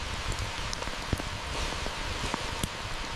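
Cold rain falling outdoors over a primitive outdoor kitchen, a steady dense hiss of drops with a few sharper close taps on nearby surfaces and leaves, heard on its own without voices.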